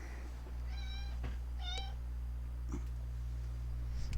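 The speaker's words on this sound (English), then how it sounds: "my cat is meowing" A pet cat meows twice in clear, rising calls with a faint third cry later, heard close against a steady low electrical hum in a quiet room.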